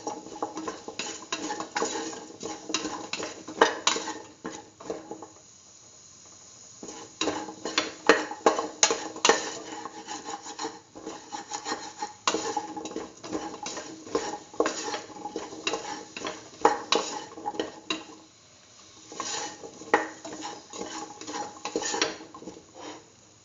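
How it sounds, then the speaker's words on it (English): A spoon scrapes and clatters against a pot while a paste for a lentil pumpkin stew gets mixed thoroughly, in rhythmic bursts of stirring broken by short pauses, close-up with no voices. "Mix thoroughly."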